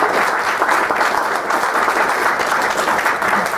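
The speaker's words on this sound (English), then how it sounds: "give him a good round of applause" Audience applause, dense and even clapping from a crowd filling the whole stretch at steady loudness, with no single voice standing out.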